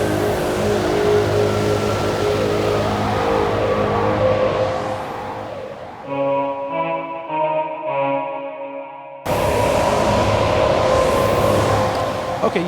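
A VPS Avenger 2 synthesizer preset with heavy drive roars in a thick, distorted, chorused wall of sound, dropping into a stepped sequence of bright detuned notes before the full saturated drone slams back in.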